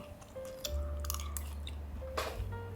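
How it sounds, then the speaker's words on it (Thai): Someone chews stir-fried beef with dried chili and basil, giving soft, wet, close mouth sounds that are quiet and steady, with nobody talking. "กัดโดนมันเนื้อแล้วชุ่มฉ่ำ"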